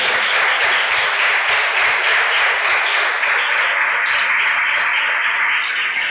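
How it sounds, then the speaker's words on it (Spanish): A church congregation gives loud, sustained applause, dense and even from start to finish with no voices over it. "Denle un aplauso al Rey de Gloria"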